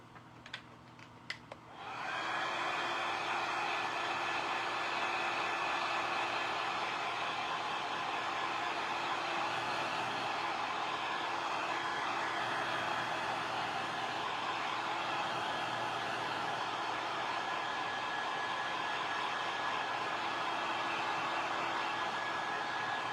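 A hair dryer drying black velvet paint on a spooky craft project switches on after a few faint clicks and runs as a loud, steady, close whooshing roar that continues to the end.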